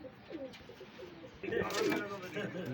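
Pigeons at a bird fair coo in low, rolling calls that swell louder partway through, with people talking over them.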